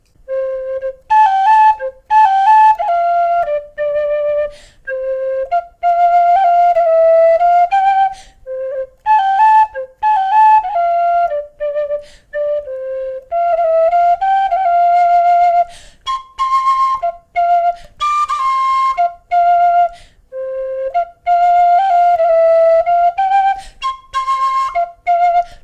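A Clarke tin whistle plays a lively, ornamented melody solo, bright and close, with quick slides between notes and short breaths between phrases.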